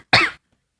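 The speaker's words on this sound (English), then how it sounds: "you coughed" A single short, sharp cough, close and alone, followed by silence.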